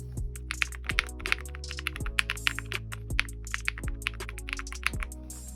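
Close-up typing on an Ajazz AK820 Pro budget 75% keyboard with soft, tactile, creamy-sounding keys: a quick, irregular stream of muted keystrokes with occasional heavier thocks, with no voices.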